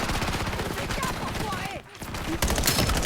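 Dense, rapid gunfire in the shooter game Call of Duty Black Ops 7 rattles on almost without a break, with a short dip before a louder burst near the end.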